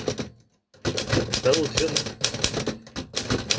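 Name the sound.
typing on a typewriter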